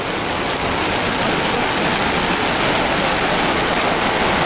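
Heavy rainstorm pouring down on a city street in Vila Prudente, São Paulo, a dense, loud and unbroken hiss of rain hitting surfaces for the whole stretch, with no voices.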